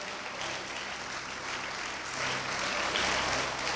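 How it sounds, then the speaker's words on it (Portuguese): Church congregation clapping loudly and joyfully together, a dense continuous wash of applause from many hands that swells slightly toward the end, with a low rumble beneath. "dá uma salva de palmas para Ele, bem forte, com alegria."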